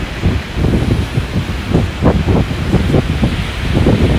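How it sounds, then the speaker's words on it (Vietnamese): Strong wind buffets the microphone on a rainy seaside cliff in Taiwan, a loud, continuous rumbling roar with gusty surges throughout. "Gió quá."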